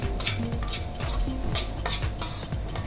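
200 grams of semolina stirred nonstop in a pan over a medium flame: a steady, loud scraping of a metal spoon against the pan in repeated rhythmic strokes, close and without talk.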